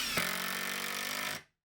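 A power drill drives a 3-inch screw into wood while building a sawhorse, giving a steady, close, loud motor whir for just over a second before stopping abruptly.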